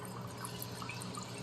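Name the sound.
cold water flowing through a wort chiller while brewing beer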